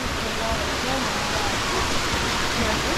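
A small waterfall with very clear water on the Lewis Falls trail in California rushes steadily as a close, broadband wash, unbroken and even in level throughout with no pauses.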